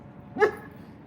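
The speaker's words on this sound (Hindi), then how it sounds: "मुझे पहले ही पता था ये भौंकेगा।" A single short dog bark, a bit distant and fairly faint, rising out of quiet background noise.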